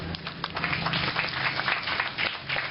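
A live audience at a gathering gives a brief, moderately distant round of clapping, scattered and fairly faint, with no talk over it.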